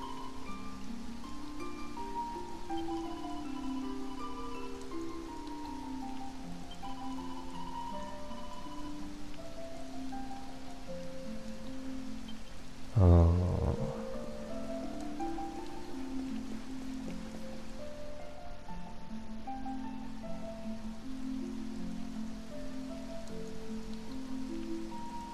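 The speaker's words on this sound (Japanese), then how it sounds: "みんなこんな雨の中何してんの？" Rain falls steadily in the video game Dragon Quest XI S, a constant soft hiss under a slow, wistful melody, with one brief dull thump midway.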